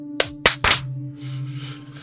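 Three sharp hand claps ring out in quick succession, loud and close, followed by a quiet room tone with a low hum.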